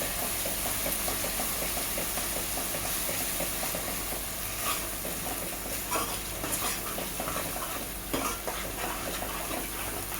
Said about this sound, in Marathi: आपण आता हे मसाले जे वाटून घेतलं होतं संपूर्ण मसाले आपण हे परतून घ्यायचे.